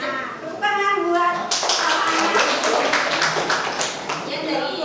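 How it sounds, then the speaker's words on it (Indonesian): A group claps together, a burst of applause rising over children's voices and chatter in a room. "tepuk tangan buat"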